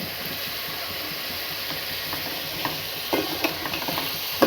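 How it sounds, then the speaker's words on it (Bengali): Chopped onions with salt are stirred in a hot pan with a steady sizzle, and a few scraping taps of the spoon stand out near the end. "ভালো করে নেড়ে চেড়ে নেব।"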